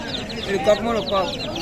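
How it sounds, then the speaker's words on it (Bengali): Layer-breed male chicks at a live poultry market peep in high, repeated chirps over a busy crowd, with voices talking nearby throughout. "এগুলো লেয়ার মুরগি পুরুষ বাচ্চাগুলো"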